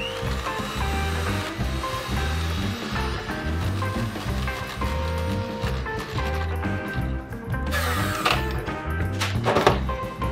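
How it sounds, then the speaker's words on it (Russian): Cold heavy cream being whipped to stiff peaks with an electric mixer: a steady, close mechanical whir with a regular rhythmic pulsing that continues throughout, with no talking. "Дальше холодные жирные сливки взбиваю до устойчивых пиков."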